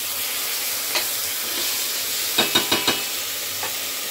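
Marinated Gobindobhog rice with cinnamon and cardamom hits a hot pan with a continuous sizzle, followed by a quick run of scraping stirring strokes and a final lighter scrape.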